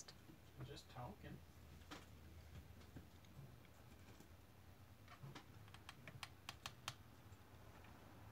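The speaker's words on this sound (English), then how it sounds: "Typing so fast." Rapid computer keyboard typing, quiet and close, with a burst of sharp clicks toward the end, over a noisy room with talk and rain-like patter in the background.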